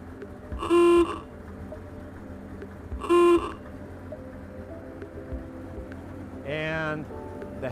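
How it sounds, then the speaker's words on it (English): Horn on a 1925 Franklin car blows two short, bright honks a couple of seconds apart, then gives a third, slightly longer and wavering toot, each loud and near over a low engine idle. "Would you like to hear the horn work?"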